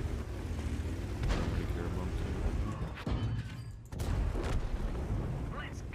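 Heavy cannon blasts from a T54 Heavy tank in a tank video game, a few loud booming shots over a constant engine rumble and battle noise, with a voice talking under it.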